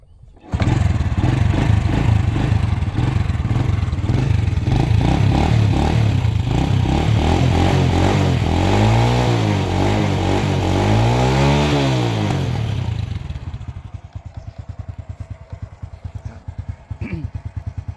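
A stock Honda Wave 100 motorcycle engine with an original, never-opened motor idles loudly and steadily up close, blipping the throttle a few times mid-run before it is shut off, leaving quieter background noise.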